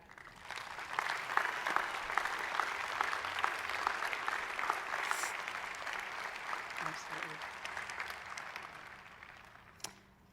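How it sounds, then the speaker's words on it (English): Sustained applause from a commencement audience for the 2021 graduating class, a steady crowd of many hands clapping at moderate distance for around ten seconds, with a louder single clap near the end. "will the audience please join me in clapping for each and every graduate."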